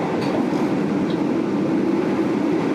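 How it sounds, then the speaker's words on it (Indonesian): Steady, loud rumble from inside an economy class carriage on the Ranggajati train, a 2012 K3 car with New Generation modification, rolling over noisy rails with constant wheel roar and faint squeals, no voices. "Ini kalau di rel yang berisik kayaknya berisik banget, jadi kayak kurang nyaman di dalam kabin kereta ekonomi modifikasi New Generation"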